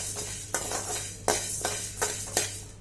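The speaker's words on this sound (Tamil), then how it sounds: "ஒரு 3லேருந்து 4 ஸ்பூன் கொத்தமல்லி எண்ணெய் எதுவும் சேர்க்காமல் வறுத்து எடுத்துக்கலாம்" Coriander seeds dry roasting in a pan with no oil, with a light background sizzle and sharp scraping clatters from a spoon stirring against the pan at a steady rhythm, about one every half second, close and clear.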